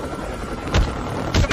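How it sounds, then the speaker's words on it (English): A hostile stealth helicopter closes in during a Call of Duty match, heard as a steady loud rotor roar with two heavy thumping bursts amid the battle noise. "Be advised, hostile stealth chopper inbound."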